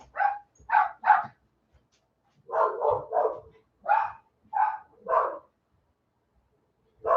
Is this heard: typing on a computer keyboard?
no